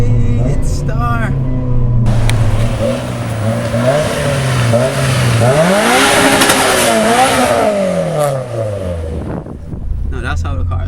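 A tuned 500HP Mitsubishi Evo 9 engine revs and accelerates loudly and close by, rising and falling in pitch over several gear pulls before cutting off near the end, with voices at the start and finish.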